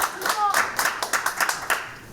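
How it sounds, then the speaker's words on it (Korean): A seminar audience at an emergency citizens' resistance-rights gathering claps in a short burst of about eight fairly even, separate claps, with a voice talking over the start. "박수 한번 주세요."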